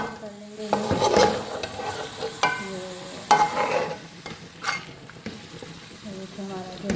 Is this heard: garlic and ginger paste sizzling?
yes